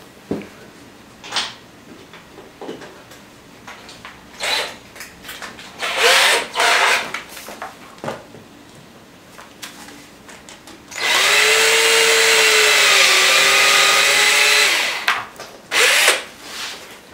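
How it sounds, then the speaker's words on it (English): A power drill whirs steadily for a few seconds, drilling a small pilot hole for Yamaha R1 frame sliders, after several short bursts and scattered clicks, close by and loud. "we're going to drill a pilot hole. A pilot hole means just drilling with a small bit."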